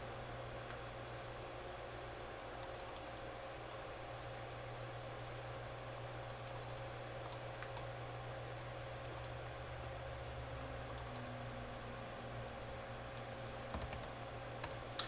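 Keys clicking on a PC keyboard in short bursts, close and fairly quiet over a steady fan-like hum, with pauses between the bursts.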